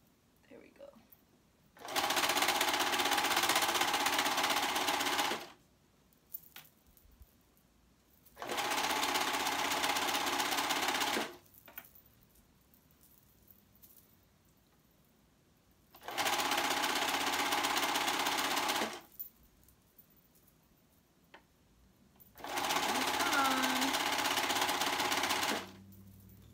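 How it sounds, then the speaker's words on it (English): A serger stitches a flounce tee in four loud sustained bursts of about three to four seconds each, separated by quiet pauses with faint handling noise. "making sure you remove all the pins while you're serging"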